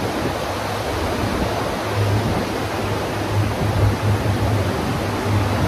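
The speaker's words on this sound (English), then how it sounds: "Just the breeze, the sounds of the ocean" Ocean wind and sea wash sweep across the deck of the cruise ship Wonder of the Seas on a sea day, a continuous loud hiss and rumble with gentle swells of louder gusts and no voices.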